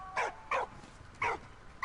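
Dog in the World War I game Valiant Hearts barks three or four times in short, spaced yaps at moderate volume.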